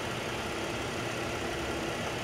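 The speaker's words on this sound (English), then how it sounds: "Engine sounds terrific." A 2016 Chevrolet Traverse engine idles steadily, a faint, even hum with a broad hiss and no changes in pace.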